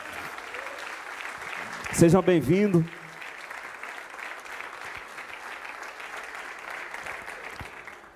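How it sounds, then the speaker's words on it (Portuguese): Church congregation applauding during a men's gathering, steady clapping heard throughout beneath a preacher's voice, with a brief louder vocal moment near the start. "Dá uma aplauso ao Senhor pela vida desses homens."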